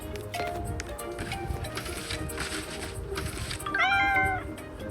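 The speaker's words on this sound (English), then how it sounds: "That's the cat!" A cat meows in the video game Cats Friend Rescue: one clear, wavering, drawn-out meow near the end, loud over steady game music and background effects.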